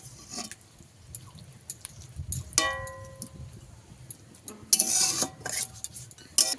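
A metal lid set onto a pot of cooking spinach gives a clink with a short ringing tone, followed moments later by a louder close clatter of metal against metal; no one speaks.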